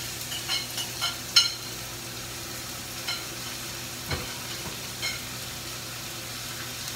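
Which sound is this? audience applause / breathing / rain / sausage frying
sausage frying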